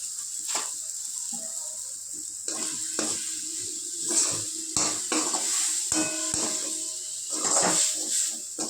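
Gongura leaves frying in a little oil for Nellore-style Andhra chutney, a soft steady sizzle broken by repeated scraping and clinking of a spoon against the pan as they are stirred.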